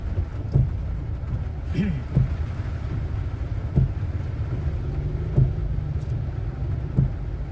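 Heavy rain pours during a storm in Vientiane, Laos, a steady broad hiss with low rumbling and a few periodic dull thumps, while someone talks over it.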